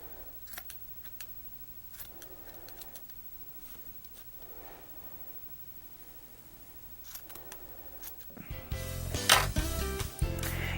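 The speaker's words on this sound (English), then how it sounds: "Use a nice pair of sharp scissors" Sharp scissors trim yarn fringe ends on a knitted scarf, giving a series of quiet, crisp snips at irregular intervals, followed by a louder burst of music near the end.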